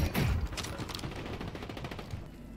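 Quiet gunshots in a video game, an initial burst followed by a rapid stream of softer shots that tapers away, somewhat distant and low in level.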